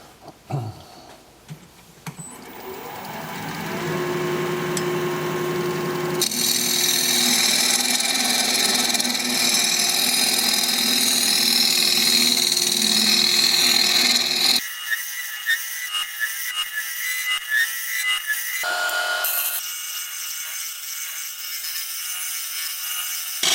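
Lathe tool hollowing out a wooden hollow form on a wood lathe, a sustained scraping, humming grind with shifting pitch that changes character partway through, then stops and restarts briefly in bursts near the end.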